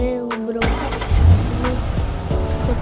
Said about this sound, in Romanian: Să trag o mașină în garaj